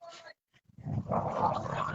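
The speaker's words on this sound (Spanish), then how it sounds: "se armó un lío con los perros en el jardín" Dogs in a garden making a commotion, with a short burst at the start, a brief gap, then sustained loud barking and growling-type noise continuing to the end.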